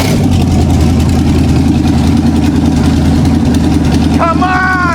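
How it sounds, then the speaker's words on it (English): An ice-cold wagon engine fires up without throttle and settles into a smooth, steady idle, a loud continuous rumble throughout, with a brief squealing whine near the end. "I'm very excited about the way this motor runs."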